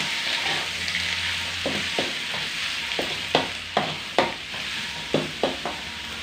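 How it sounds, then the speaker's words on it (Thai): Steady sizzling of chilies stir-frying in a hot wok, with a run of sharp scraping stirs toward the end; no voices. "ผัดพริกก่อนผัดพริกให้สุกนะครับ"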